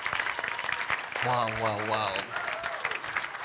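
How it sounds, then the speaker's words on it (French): An audience applauds a pair of improv teams after a semifinal, steady broadband clapping running throughout while one voice calls out an exclamation over it midway. "On peut leur donner une bonne main d'applaudissements."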